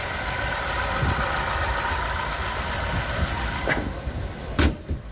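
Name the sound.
car engine idling, Chevrolet Cobalt or Gentra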